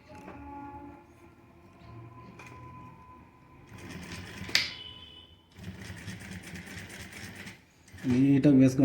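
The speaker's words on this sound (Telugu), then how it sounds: "దీన్ని ఇప్పుడు బోన్ కుట్టుకుందాం, బోన్ స్టిచ్ చేసుకుందాం." A sewing machine runs in bursts while stitching a bone stitch on a welt pocket, its fast mechanical rattle starting and stopping with pauses between runs, beneath a faint background hum.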